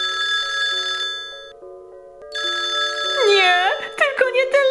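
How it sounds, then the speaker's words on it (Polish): A telephone rings with a repeated electronic bell tone, pausing briefly and then resuming, before voices talk over it in an animated scene. "Nie, tylko nie telefon!"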